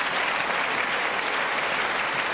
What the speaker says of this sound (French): Moi, journaliste, je vais applaudir un mec.